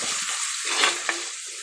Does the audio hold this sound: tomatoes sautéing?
yes